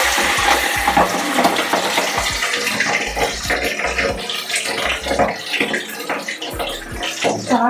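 Marinated chicken kabab pieces frying in hot oil, a dense, busy sizzle with rapid popping and crackling bursts throughout, loud and close, with no talk.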